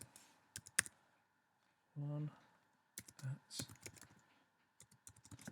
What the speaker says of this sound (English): And I'm going to type in the email address.